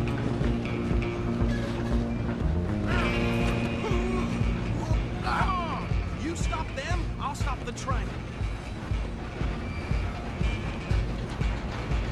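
A train running in Red Dead Redemption 2, a steady loud rumble with ongoing rolling clatter and mechanical tones, heard up close under game sounds and voices throughout.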